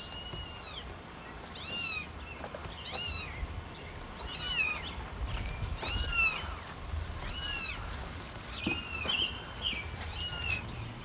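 Kittens meow again and again in high, thin, wavering cries, several calls overlapping at close range against a soft background rustle, with a nervous mother cat nearby.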